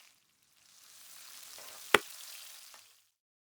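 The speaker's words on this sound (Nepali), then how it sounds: "अब यसमा सुक्मेल, तेजपत्ता, मरिच फुराउने र यसको साथसाथै स्लाइस गरेर राखेको लसुन, अदुवा पनि सँगै फ्राई गर्ने।" Cardamom, bay leaf, pepper, sliced garlic and ginger frying in hot oil for Nepali-style thukpa, a soft, steady sizzle that swells and fades over a few seconds, with one sharp clatter midway.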